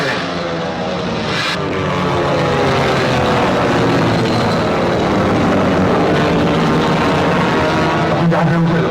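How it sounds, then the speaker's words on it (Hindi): Aircraft roaring in an action film climax at sea, a dense continuous engine drone filling the scene loudly throughout, with faint voices barely audible beneath it. "हवाई जहाज हमारा पीछा कर रहे हैं।"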